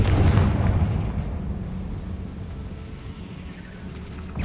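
A Confringo spell explodes in Hogwarts Legacy, a heavy, loud boom that rolls and fades over a few seconds with no voices over it.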